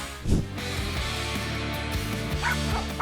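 A guard dog barks and yips at an intruder in a yard, sharp close barks with a few whimpering yelps, repeated over a steady background.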